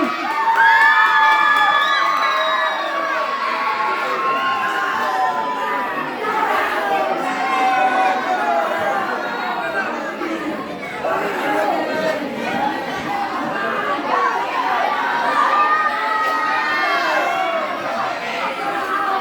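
A crowd of children at a school celebration cheers and shouts with whoops and lively chatter, loud and continuous throughout, as house leaders stand on stage.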